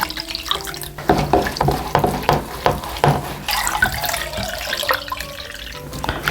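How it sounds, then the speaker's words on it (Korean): Two liters of water are poured into the brine for napa cabbage water kimchi. It makes a steady splashing and trickling sound with a few uneven gushes, close by and moderately loud, and no one talks. "그리고 여기다 물을 2리터 더 부을 거예요."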